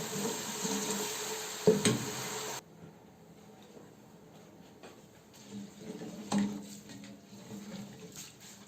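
Water poured into a pot of rice and cumin for chicken pulao, a steady splashing, trickling rush for the first few seconds, then quieter kitchen clatter with a couple of brief knocks.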